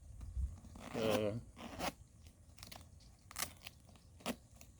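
A stout zipper on a 5.11 ATAC 2.0 Storm 8-inch boot is worked up and down close by, giving short rasping zips with brief pauses between them.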